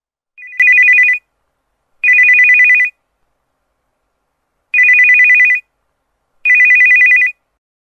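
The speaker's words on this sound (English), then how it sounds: "did you see how the ring of the phone sounded low and muffled when it was lying beneath this pillow?" A mobile phone rings in four separate electronic bursts with pauses between them, loud and clear with no talking.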